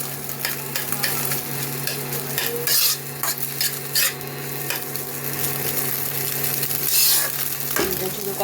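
Egg fries in oil in a wok, or kadai, with a steady close sizzle broken by intermittent scraping and stirring taps from a utensil against the pan, with no talk.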